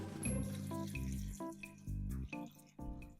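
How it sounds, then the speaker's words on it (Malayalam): Water is poured into a cooking pan while making shrimp and drumstick theeyal, heard as a few short, close, gurgling pours with brief pauses between them. "അതിൻ്റെ കൂട്ടത്തിൽ കുറച്ച് വെള്ളം കൂടെ ചേർക്കണം."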